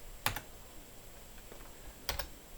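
Quiet keystrokes on a computer keyboard while coding in IntelliJ IDEA: two short, distinct bursts of clicks a couple of seconds apart, heard close up with no talking.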